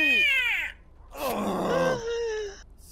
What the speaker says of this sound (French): Y'a un chat dans le coffre là.